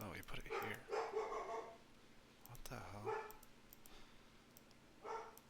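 A pet dog barks in a room during an online Axis & Allies board game session, a few sharp, fairly close barks spaced across the moment while someone talks over them.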